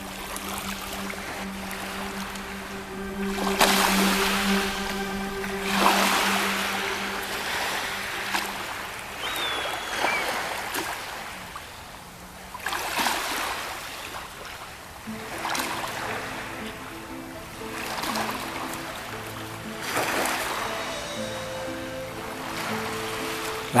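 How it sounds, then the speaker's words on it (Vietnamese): Gentle waves lap at a lake shore where seagulls and geese gather, a soft continuous wash with recurring swells over a steady low hum, with no talking. "rồi có sóng nhẹ vỗ vào bờ, tạo thành những âm thanh êm dịu"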